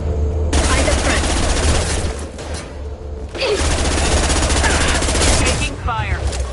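Sustained rapid gunfire in Mass Effect Legendary Edition, a video game, rattles in long loud bursts with a brief lull in the middle, dense and close, with voices faintly under the shooting.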